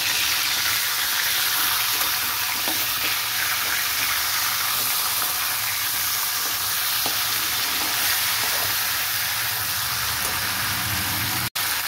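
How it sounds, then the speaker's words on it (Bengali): A catla fish head fries in hot oil in a wok, giving a steady, loud, close sizzle with a dense hiss that runs throughout and cuts off abruptly at the very end. "কড়াইতে তেল গরম করে মাছের মাথাটা ভাজা বসিয়ে দিয়েছি।"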